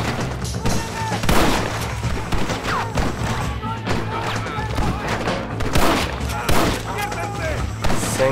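Gunfire in the Western video game Red Dead Redemption: a dense run of sharp shots and thuds across the whole stretch, mixed with game music and effects, with a voice talking over it.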